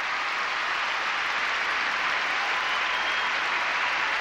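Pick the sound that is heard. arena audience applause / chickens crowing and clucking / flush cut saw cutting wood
arena audience applause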